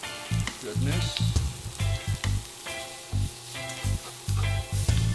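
Onions, mushrooms, peppers, broccoli, fresh ginger and garlic sizzle loudly in a hot stir-fry pan, with steady frying crackle broken by repeated scraping and stirring strokes.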